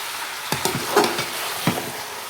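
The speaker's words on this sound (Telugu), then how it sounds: "పెద్ద స్టవ్ కదా అంటుకుంటుందని భయం అందుకే తొందరగా కలుపుకోవాలి మధ్య మధ్యలో" Chicken curry is stirred in a pot on a large stove, with a few scraping knocks of the spoon against the pot over a soft background hiss.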